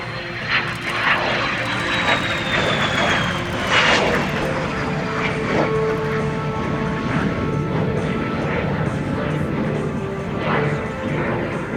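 A de Havilland DH-115 Vampire jet performs a flight display at an airshow, its engine roaring loudly and steadily with a falling whine as it passes, crowd noise faint underneath.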